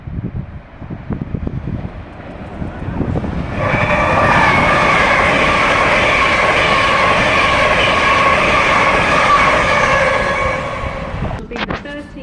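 A Class 66 diesel locomotive, number 66420, passes through Doncaster station, a loud sustained rumble with droning engine tones building over several seconds, holding steady and then easing off near the end.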